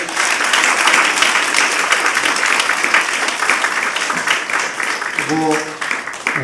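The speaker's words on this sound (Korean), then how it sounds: "박수 한번." At a Sunday evening church service, the congregation breaks into sustained applause while a voice carries over the clapping near the end.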